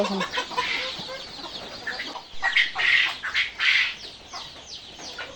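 Several hens cluck and squawk close by in an overlapping, busy chorus, with sharper squawks rising in the middle.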